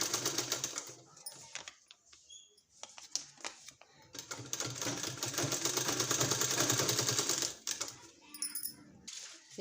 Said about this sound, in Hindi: इसको इस तरह से रख के हमको इसमें सिलाई लगा लेना है।